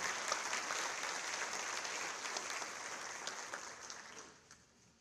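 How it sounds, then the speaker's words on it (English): An audience at a high school senior honors and awards ceremony applauds students, giving steady, moderately distant clapping that gradually thins and fades out over the final second. "A round of applause for these students who have earned Palmetto Fellows recognition"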